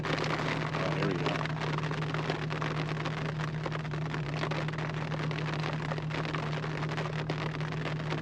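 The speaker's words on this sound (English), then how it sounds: "It's just sprinkling right now" Light monsoon rain sprinkles among trees hung with old man's beard lichen, a soft, even hiss that holds steady throughout, with a faint constant low hum beneath and no one talking.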